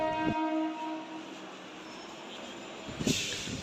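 Train at Sealdah railway station in Kolkata, a steady rumbling hum with a long sustained horn-like tone, plus brief clanks near the start and end, heard at moderate distance without speech.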